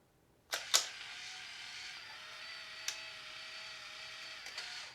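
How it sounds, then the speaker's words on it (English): A Diana Instant Square instant camera fires its shutter with a couple of crisp clicks. A steady motor whir follows as the print is ejected, with another small click partway through, all close and fairly quiet. "So now I'm on normal and I press the shutter once."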